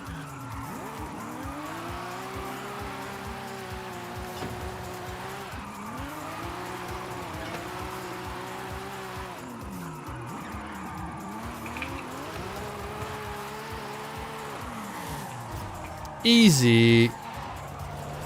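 A car drifts in Forza Horizon 5, its engine revving and droning through long slides with sustained wavering tire squeal, moderately loud beneath a voice, with a sharp louder squeal burst near the end.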